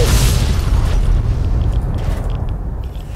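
A Fat Man mini-nuke launcher fires and detonates in Fallout 3, giving a loud, sustained low rumbling boom that holds steady for about three seconds before slowly easing off.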